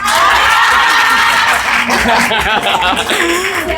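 A crowd at a speech event in Haiti applauds, the clapping mixed with cheers, whoops and laughter, with voices calling out over the noise.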